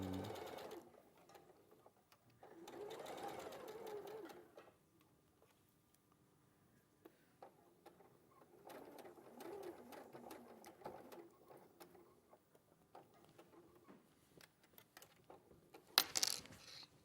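A domestic sewing machine stitches in intermittent short runs, quiet and close, with pauses and small clicks between bursts and a sharp metallic tick near the end.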